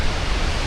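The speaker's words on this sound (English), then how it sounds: "The spray coming off this waterfall now, incredible." Waterfall in full flood in Iceland, a dense, steady roar of rushing and spraying water filling the whole sound, close and loud.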